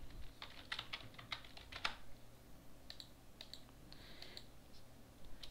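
Computer keyboard keys are tapped in quick clusters while a username is entered, soft close clicks coming in short runs with brief gaps.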